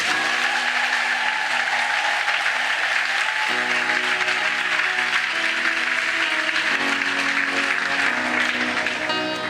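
A church congregation applauds to acclaim Jesus during a French-language worship service, with sustained loud clapping from a crowd and sustained keyboard-like tones underneath.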